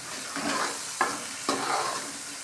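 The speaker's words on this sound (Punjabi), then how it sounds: "ਮਸਾਲਾ ਭੁੰਨ ਰਹੇ ਪਿਆਜ਼ ਆਪਾਂ ਗ੍ਰਾਇੰਡ ਕੀਤਾ ਸੀ ਤੇ ਮੈਂ ਪਿਆਜ਼ ਟਮਾਟਰ ਪਾ ਦੂ ਸਾਰਾ ਕੁਝ" Masala of ground onion and tomato fries in a pan for a shahi paneer gravy, a soft steady sizzle broken by two sharp scrapes of a spoon stirring, close by with no talking.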